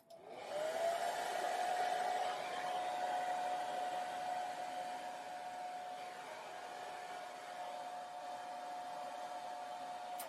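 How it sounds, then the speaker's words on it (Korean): A hair dryer on its low setting blows up at the hair roots from underneath, a steady close rushing whoosh with a thin motor whine, held continuously without pause. "드라이기 약풍을 주면서 뿌리 볼륨만 밑에서 위로 쏘면서 뿌리 볼륨만 살짝 잡아줄 거고요"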